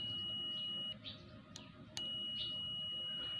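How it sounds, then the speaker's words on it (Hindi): A digital multimeter set to continuity range sounds its buzzer as the probes short, a steady high-pitched beep that cuts out for about a second and then resumes, fairly faint and alone. "तो ये बज़र बजेगा।"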